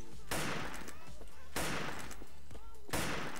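Three loud, evenly spaced gun blasts ring out in a video game, each a sharp burst followed by a brief echoing tail against steady in-game background noise.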